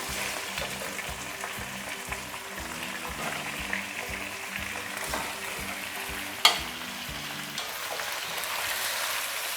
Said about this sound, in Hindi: इसको अच्छी तरह आप भून लें